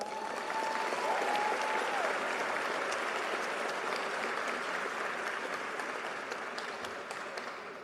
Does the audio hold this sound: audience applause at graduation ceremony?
yes